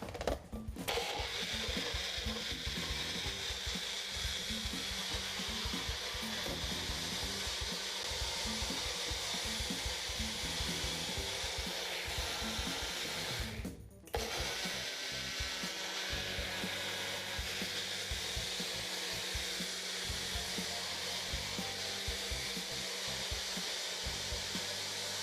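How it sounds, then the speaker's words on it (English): A kitchen blender runs continuously as it blends a cucumber drink, a loud steady motor whir with a brief dip near the middle before the grinding resumes. "I'm gonna just simply put this to the blend for about 4 seconds."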